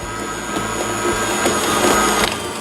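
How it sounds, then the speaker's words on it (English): A brand-new Cabela's electric meat grinder pushing once-ground boar meat and fat chunks through, a loud steady motor whir with a rhythmic churning pulse, close and alone. "Chops it up, goes through the big grinder, and pushes it out the other end."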